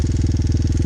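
A Honda Hawk 250 motorcycle engine chugs at low revs while the clutch is eased out, a close, loud, steady pulsing throb with no talk over it.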